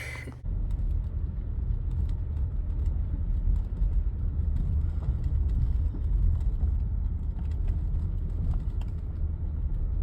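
A car rolls slowly along a rough dirt road. The low rumble is steady throughout, with small rattles and bumps from the uneven ground.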